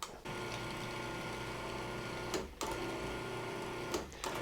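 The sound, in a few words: food processor pulsing flour, sugar and salt together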